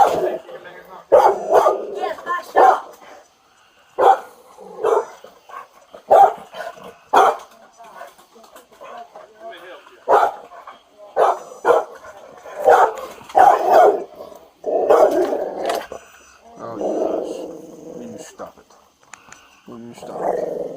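A dog barks, growls and yips in agitated bursts during a dog attack on police deputies serving a warrant, mixed with shouting voices and scuffling noise that rise and fall throughout.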